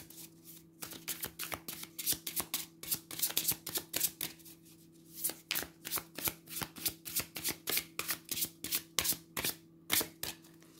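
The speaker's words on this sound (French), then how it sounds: "3 cartes du This Might Hurt Tarot" A This Might Hurt Tarot deck is shuffled by hand, making a quick run of soft papery riffles and slaps in an irregular rhythm. The shuffling is fairly faint over a low steady hum, with no speech.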